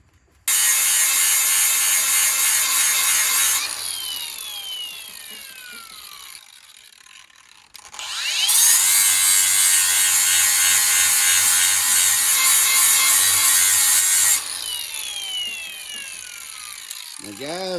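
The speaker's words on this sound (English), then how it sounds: "I'm going to turn this over in my vise because I'm using my hand grinder" A hand grinder sharpens a lawn mower blade clamped in a vise, giving a loud close high-pitched grinding whine in two long passes separated by a brief drop, then spinning back up.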